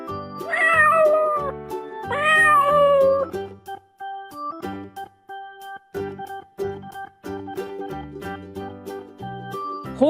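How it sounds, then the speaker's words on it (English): A domestic cat meows twice in long, wavering, loud calls at the start of a children's animal-sounds game, followed by bouncy background music. "Cat."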